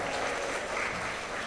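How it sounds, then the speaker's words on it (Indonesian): Audience in a school debate hall in Banda Aceh applauds at the opening ceremony, a steady dense wash of many hands clapping at once, loud and continuous with no voices over it. "Dan tepuk tangan untuk kita semua."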